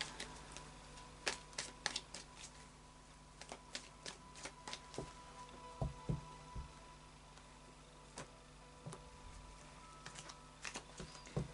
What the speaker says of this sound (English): Let's do a final shuffle of the light seers tarot.